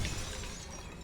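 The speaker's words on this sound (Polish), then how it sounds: "idealnie wyważone umiejętności uderzenia w szkło" Glass shatters under Thor's hammer strike in the LEGO Marvel Super Heroes video game, a brief crash settling into a steady scatter of small fragments.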